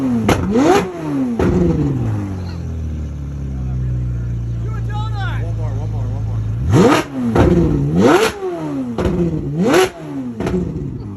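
A car engine revs up to about 4,000 RPM, rising in repeated sharp sweeps and then holding a long steady drone, close and loud, with people talking around it.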